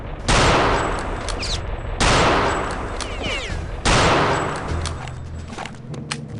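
Sniper rifle shots in Return to Castle Wolfenstein: three loud, sharp cracks about two seconds apart, each trailing into a rattling decay, with faint game ambience between them.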